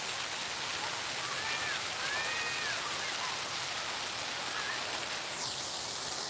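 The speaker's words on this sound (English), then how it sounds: "here's the fountain" Water splashes continuously in an outdoor fountain, a steady hissing rush with faint birdsong in the background.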